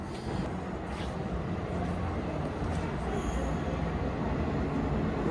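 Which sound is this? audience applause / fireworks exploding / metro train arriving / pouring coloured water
metro train arriving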